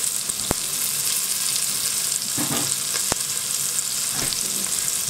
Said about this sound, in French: Les carottes et les poireaux vont rissoler gentiment, tranquillement.